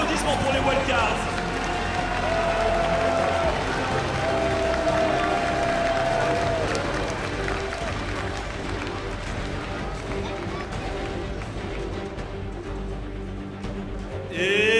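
A large esports arena audience at a League of Legends Worlds group stage opening ceremony applauding and cheering for the wildcard teams, a loud sustained roar of clapping with music and an announcer's voice over it.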